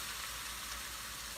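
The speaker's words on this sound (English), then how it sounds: "we're gonna give this burger patty a flip" A burger patty sizzles as it fries in a cooking video game, a steady, even hiss of frying that fills the moment without breaks, faint overall and with no talk over it.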